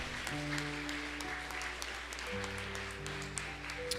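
A church congregation applauding together, a dense steady wash of clapping under sustained organ or keyboard chords, moderately loud and continuous throughout.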